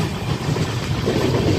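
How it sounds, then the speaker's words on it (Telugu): Gowthami Express passenger train crossing the Godavari river bridge, a steady close rumble of wheels and carriages with low rhythmic clatter throughout, no voices. "ట్రైన్ అయితే ఇలా బ్రిడ్జ్ మీద వెళ్తున్నప్పుడు అయితే సౌండ్ అయితే చాలా బాగుంటుంది"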